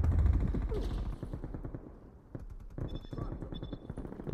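A gun in the Call of Duty: Black Ops Cold War video game, Demolition mode, fires in a dense, rattling stream of rapid shots. The sound is fairly loud and keeps going with only a brief dip in the middle.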